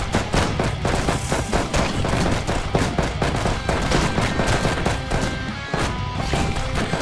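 Rapid machine gun fire rattles continuously through a co-op tower defence action game, Defender Bros, loud and dense with crashing impacts mixed in and no voices.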